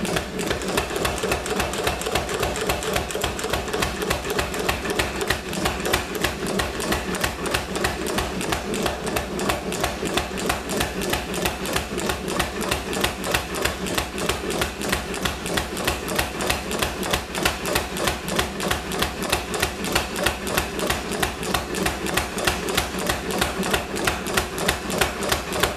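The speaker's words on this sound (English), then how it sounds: "Okay, just going to flatten this thing out now." A forged steel fire poker is hammered flat while hot, a long, fast, even run of loud ringing blows that continues steadily throughout with no talking.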